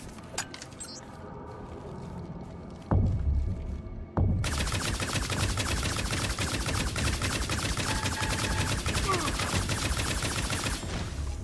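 Two sharp, heavy shotgun alt-fire blasts from a battleframe in the sci-fi shooter Firefall, followed by a long, loud stretch of rapid, continuous weapon fire and explosions with no talk over it.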